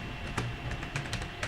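Quick, light clicks of fingers typing code on a computer keyboard, a soft uneven patter of keystrokes with short pauses, close and quiet.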